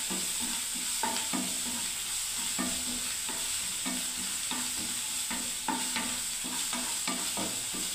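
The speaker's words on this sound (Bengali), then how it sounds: "এবার ভালো করে আমি আরেকটু ভাজতে থাকি বন্ধুরা।" Turmeric and chili powder sizzling in hot oil for a pointed gourd bharta, with a steady frying hiss broken by regular scraping stirs of a spatula, close and fairly loud, no voices.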